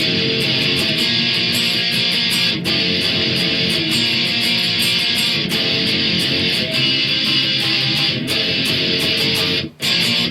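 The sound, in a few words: guitar playing a chorus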